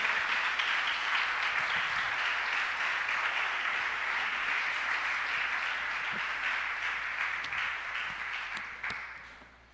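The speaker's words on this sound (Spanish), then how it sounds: "Aplaudamos al Señor por esa recompensa" A church congregation applauds during a sermon, a sustained, dense wash of clapping at moderate distance that holds steady for several seconds before fading out at the end.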